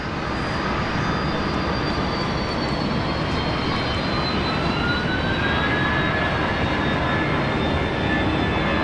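An airliner takes off at Brisbane Airport, a loud continuous jet engine roar spreading broadly, with a whining tone that slowly sweeps lower as the aircraft powers away.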